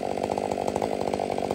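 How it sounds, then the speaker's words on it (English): A Stihl MS500i chainsaw with a full house chain cuts through wood, its engine loud and close, with a fast pulsing rhythm as the saw is loaded into the cut. "listen to when I load it up and watch how fast the power saw is going through the wood"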